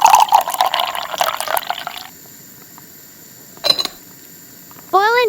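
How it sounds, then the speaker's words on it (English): Water pours into a small miniature cooking pot for boiling potatoes, a bright splashing trickle for about two seconds, followed by quiet, a brief clink, and a short rising chirp near the end. "Pour water into the pot."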